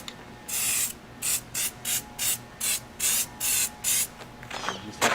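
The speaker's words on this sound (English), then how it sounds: "So I got to spray upside down." Spray paint can sprayed while held upside down, giving a series of about nine loud, close hissing bursts of varying length separated by short pauses.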